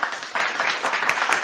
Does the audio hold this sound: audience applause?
yes